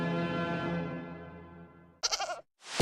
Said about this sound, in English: We have a goat here.